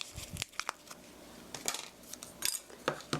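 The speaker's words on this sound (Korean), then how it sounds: "이렇게 고루 섞어주시고요" Shredded cabbage being tossed with flour and a teaspoon of baking powder for vegetable pancake batter, using tongs in a bowl: light, quick metallic clicks and scrapes scattered throughout, close but faint, with no speech.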